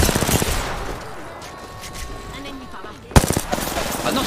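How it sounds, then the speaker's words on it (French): Gunfire in a first-person shooter, with a rattle of shots at the start, a stretch of quieter game sound, then a sharp loud sniper crack followed by more shots, with voices in the mix. "On arrive sur la partie FPS de ce Rewind et on commence avec ce magnifique noscope de ce cher Astor"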